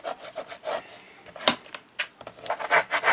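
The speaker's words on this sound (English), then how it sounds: "Give them a good burnish. This just helps get that double-sided tape" Double-sided tape strips being firmly burnished down along the spine of a handmade gate-folded memory book, heard as a series of close, dry rubbing strokes in quick irregular bursts with brief pauses.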